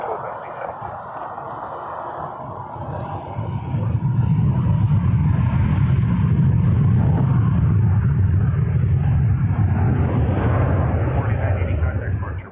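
A Boeing 737 MAX 8 jet taking off from runway 23 at Toronto Pearson Airport, a broad roar that swells after a few seconds and holds loud and steady.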